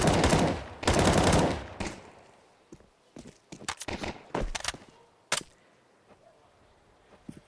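Counter-Strike match on Mirage at IEM Katowice 2024, two dense bursts of gunfire up front, then scattered single shots, short volleys and clicks spread out, with a faint commentator voice in the background.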